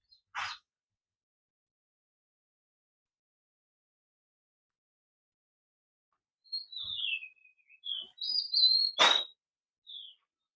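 Birds chirp on a farm in the open air: a lone click early, then quiet, then a run of high sweeping tweets and whistles for several seconds before a final short call.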